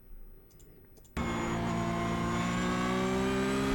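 A Porsche GT3 Cup car in iRacing at Hockenheimring, quiet clicking and low rumble at first, then the engine abruptly snaps to full throttle with a loud, sustained, rising harmonic roar held close to the end.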